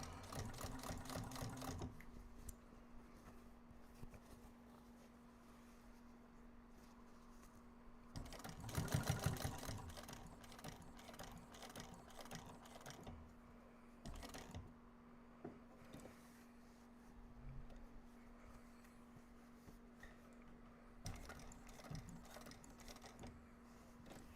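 A sewing machine stitches fabric for a bag in steady mechanical runs with a constant motor hum, pausing and restarting several times, with one louder burst near the middle, close and without talk.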